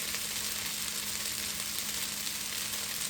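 Rice being tossed and fried in a pan with tomato, a steady, loud sizzle that holds evenly throughout with no talking.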